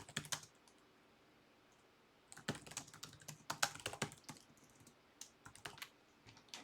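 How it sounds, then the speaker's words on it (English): Computer keyboard typing during an EverQuest play session, bursts of quick clicky keystrokes with a pause before a longer flurry, close and moderately quiet with no talk. "I think I'm typing stuff I already have hotkeys for."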